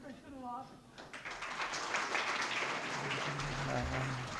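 An audience at a mushaira in Lucknow breaks into sustained applause, a dense wash of many clapping hands over several seconds, with a voice speaking at the start and again beneath it near the end.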